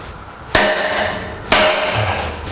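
Two sharp metallic hammer strikes on a center punch about a second apart, each ringing briefly before fading, close and loud.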